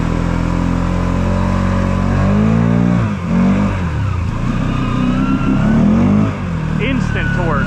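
A Polaris vehicle fitted with gear reduction accelerates hard, its engine note climbing in pitch, dipping briefly, then revving up again, loud and close, with voices talking under the motor.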